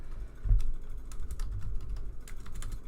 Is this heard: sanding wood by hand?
no